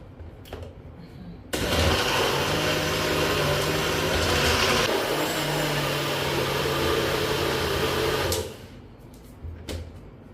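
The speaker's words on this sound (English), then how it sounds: "put it in the blender." A kitchen blender whirs loudly for about seven seconds while blending a paste, starting abruptly and running steadily with a brief shift in tone midway before cutting off.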